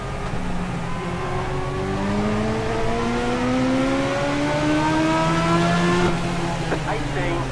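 Legends race cars at Charlotte roar around the track, several engines droning with rising and falling pitch as they pass close, a steady loud pack under a spotter's radio voice.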